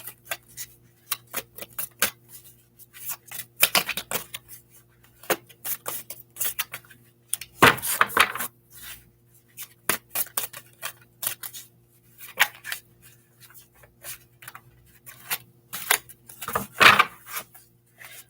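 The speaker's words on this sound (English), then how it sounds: "I'm going to start off by shuffling the cards, see what wants to come out." Crisp, irregular riffling and snapping of tarot cards being shuffled up close, in short bursts separated by brief pauses.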